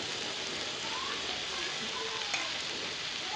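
Okra and onion sizzle steadily in a hot pan for a dry Indian sabzi as a little tomato goes in, a continuous close frying hiss with a faint stir partway through and no talk.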